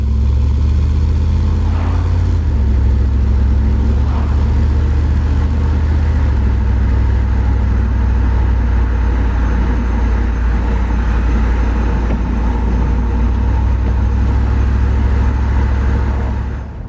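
A Mercedes saloon fitted with a Porsche engine idles with a quiet, steady exhaust, a low even rumble close by that holds throughout with no voices.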